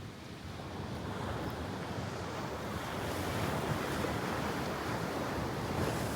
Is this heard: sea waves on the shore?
yes